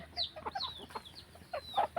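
Country hens in a native-breed poultry breeding pen cluck in a series of short, close calls with brief gaps between them, and no one speaks.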